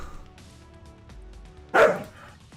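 A dog gives a single loud bark in a Marvel Future Fight game session, standing out sharply over quiet background clatter and a low hum.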